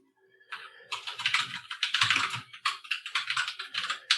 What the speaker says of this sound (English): So you should probably say what you're typing